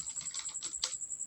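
Keys clatter on a computer keyboard while typing in Microsoft Word 2016, a quick irregular run of close, crisp taps with one louder stroke near the end, alone over a steady high whine.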